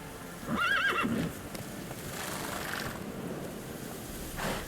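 Geralt's horse Roach in The Witcher 3 gives a sharp, close whinny early on, followed by soft rhythmic hoofbeats clopping along over a breezy outdoor background, with a brief snort near the end.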